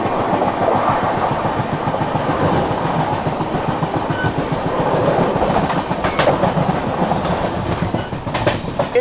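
The Chennai Central–New Delhi Grand Trunk Express rushes past up close with loud, steady wheel rumble and rhythmic clickety-clack from its passing coaches throughout.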